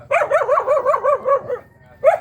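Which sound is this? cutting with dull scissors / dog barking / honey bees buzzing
dog barking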